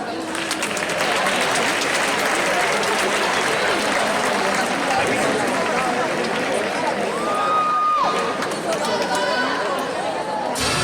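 A live audience at a Nou Barris event claps for a singer, dense sustained applause mixed with crowd chatter and babble, loud and continuous before easing near the end.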